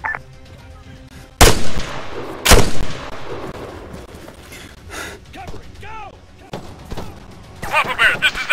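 Loud gunshots crack out in an Arma 3 battle, two heavy blasts early followed by scattered fainter shots and distant fire, with voices shouting and talking between bursts.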